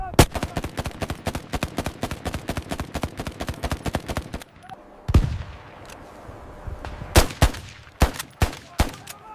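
Rapid bursts of gunfire crackle through a WWII battle scene on the frozen Caucasus retreat, loud and close, with dense repeated shots, a heavy boom near the midpoint, and scattered sharp reports afterward.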